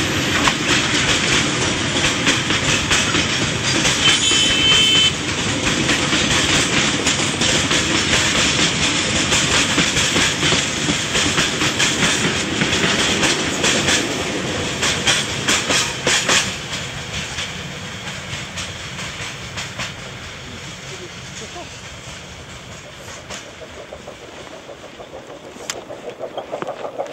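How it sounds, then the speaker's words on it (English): A train in China rumbles steadily along the rails with rhythmic clickety-clack, loud and close at first, then gradually fading and quieting toward the end. "This is a different train travelling further east."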